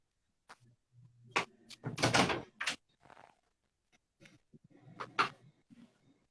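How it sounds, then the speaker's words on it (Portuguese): A door is opened indoors with a cluster of close clunks, rattles and a heavier thud from the latch and frame, then a pause before a few more knocks and bumps. "Vou abrir a porta aqui para ver o que acontece."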